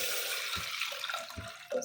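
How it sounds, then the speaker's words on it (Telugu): Water being poured into a cooking vessel on a stove for ragi sangati, a steady broadband rush of liquid with a couple of low thumps against the pot, close and fairly loud. "సో 500 ml వాటర్ తీసేసుకున్నాను"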